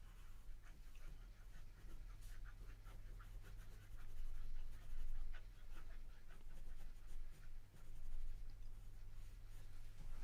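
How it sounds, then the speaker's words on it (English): A pencil moves over paper in soft, close scratchy strokes with a steady rhythm and occasional louder passes while shading a ripple darker, set against a low constant hum. "I'm turning my pencil a little bit, by going over certain parts and making them a little darker"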